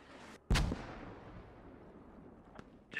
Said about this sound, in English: Just dump mortars. Just dump mortars